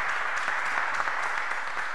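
Steady applause from an audience welcoming guests at a contemporary photography talk, dense and even clapping sustained throughout with no voices standing out.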